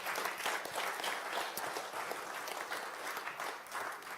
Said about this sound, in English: Can I please have a big applause for Kiki?